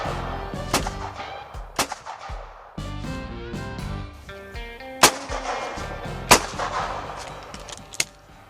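Shotgun blasts at clay targets during a doubles shoot with heavy-hitting shells, several sharp loud reports spaced a second or so apart over background music.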